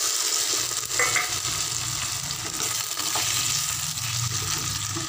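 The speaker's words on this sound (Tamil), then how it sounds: "அதை நல்லா வதக்கி விடணும்." Cut tomatoes and green chillies sauté in a hot pan for a no-onion mint tomato chutney, giving a steady, close sizzle and frying hiss throughout, with soft stirring scrapes and no talk.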